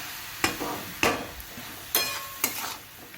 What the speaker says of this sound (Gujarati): જરીક લીંબુનો રસ સરસ બધું આપણે મિક્સ કરી દઈએ